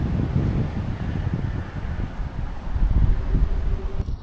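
Steady outdoor wind on a foggy morning in rural Vietnam, a continuous loud rushing roar buffeting the microphone for the whole stretch, with no voices.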